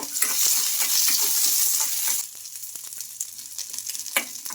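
Green chilies, ginger and garlic sizzle loudly in oil in a kadai, a steady bright hiss that drops after a couple of seconds into softer crackling with scattered pops and stirring scrapes.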